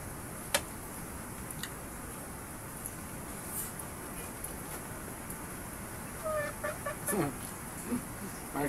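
Chicken clucking in a home setting, a few faint, scattered clucks over a steady background hiss and light ticking, fairly distant and quiet.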